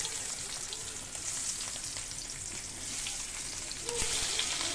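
Boiled bitter gourd slices frying in hot oil in a wok, a continuous crackling sizzle with scattered pops, swelling louder as more pieces hit the oil near the end; no talk.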